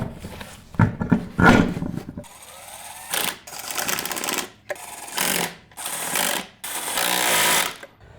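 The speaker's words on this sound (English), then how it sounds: "This Ryobi impact gun is only capable of about 70, maybe 75 foot-pounds, so what I'm doing here is not over-torquing the bolts." A Ryobi impact gun rattles in several loud, close bursts while tightening shock absorber bolts on an 84-01 Jeep Cherokee XJ, each hammering burst lasting about a second amid clanks and handling noise.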